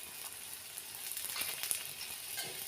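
Holige, a sweet stuffed North Karnataka flatbread, frying in oil on a pan, a faint, steady hiss of sizzling with soft, intermittent crackles, quiet and close with no other sounds.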